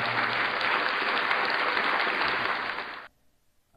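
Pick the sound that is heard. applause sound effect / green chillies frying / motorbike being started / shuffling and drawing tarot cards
applause sound effect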